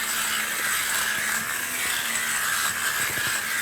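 A steady, close electric buzz from a fabric shaver running over clothing to shave off pills, with a continuous whirring hum and faint scratchy crackles as the blade passes over the fabric.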